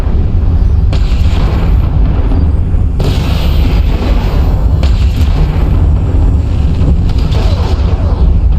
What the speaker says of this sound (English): I think I just got shot by a friendly with SRMs.